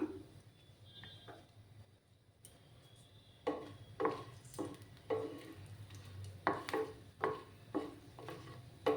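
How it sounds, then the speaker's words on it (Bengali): Four dried red chillies frying in hot oil for a bean mash dish: a steady low sizzle runs throughout, overlaid from midway by repeated scraping and stirring knocks of a utensil against the pan, close and moderately loud. "তেলটা গরম হয়ে যাক তারপর আমি এই যে চারটা কাঁচা শুকনো লঙ্কা দিলাম"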